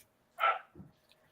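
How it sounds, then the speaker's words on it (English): A dog gives a single short, sharp bark at moderate distance indoors, followed by a faint low huff and quiet room noise. "Logan, let the dog in, please."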